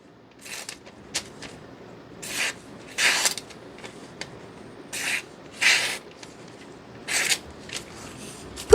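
A ZT 0545 drop-point knife slicing through a hand-held sheet of paper, several short crisp rasping cuts in an irregular rhythm, close and clear with no voices.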